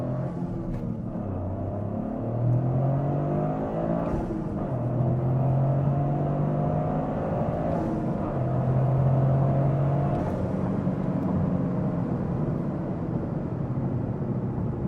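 A Toyota GR Corolla accelerates hard through several gears, its engine note climbing and dropping with each shift in a steady in-cabin roar, with no talking.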